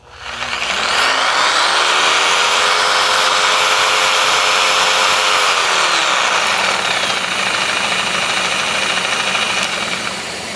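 A jigsaw on aggressive pendulum action cuts through a live edge slab, a loud sustained buzzing motor whine with a rising then falling pitch sweep and no talk.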